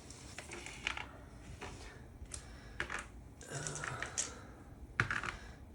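Board game dice being gathered and handled on a tabletop during a War of the Ring session, giving scattered light clicks and rattles at close range.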